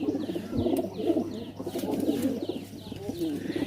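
Domestic pigeons of a cross-border breed coo in low, rolling repeated phrases close by, with chirps and faint background voices mixed in throughout.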